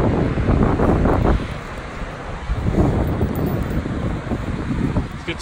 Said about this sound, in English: Let's see if I can zoom in on the ocean waves.